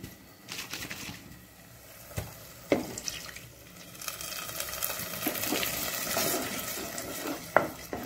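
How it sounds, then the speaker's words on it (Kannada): Plain water poured into a Mangalorean white pomfret fish gravy, a steady watery splashing and trickling in a kitchen pot with a few sharper clinks and splashes, close and moderately loud, with no talking. "ಇನ್ನು ಸ್ವಲ್ಪ ನೀರನ್ನು ಪುನಃ ಖಾಲಿ ನೀರನ್ನು ಹಾಕೊಳ್ತಿದ್ದೇನೆ"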